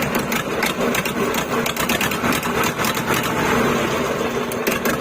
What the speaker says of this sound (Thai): เครื่องยนต์สองสูบเป็นหัวฉีดเฉียงฮะตัวนี้ เดี๋ยวจะเบิ้ลดูฮะ